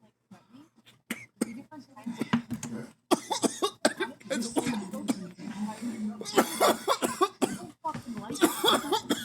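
Harsh, repeated coughing fits after smoking cannabis, loud and close, broken into bursts with throat clearing, while a voice briefly talks between them.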